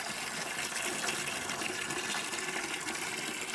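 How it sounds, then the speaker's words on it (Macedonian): Water gushes steadily into a bucket, a continuous close, full rushing and splashing without pause. "истури си кофа со вода"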